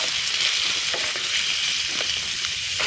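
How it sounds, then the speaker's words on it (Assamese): Chopped vegetables frying in a pan with salt and turmeric, a continuous close sizzle with soft scraping stir strokes now and then, no voices. "এতিয়া অকল নিমখ হালধি দি ফ্ৰাই কৰি লৈছোঁ এইখিনি চব্জিখিনি"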